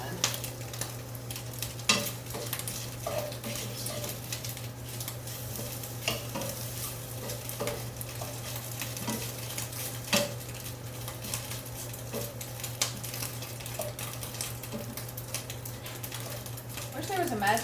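Bacon and sausage frying in a pan, with continuous sizzling and intermittent scrapes and clinks of a utensil flipping and stirring, plus a steady low hum underneath.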